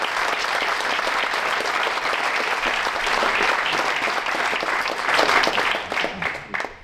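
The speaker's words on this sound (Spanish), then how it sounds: "Un aplauso para Juan." Loud, full audience applause for Juan at a presentation of the Fundación Los Bañales-Roma in Cinco Villas, a dense continuous clapping that swells briefly near the end before tapering off.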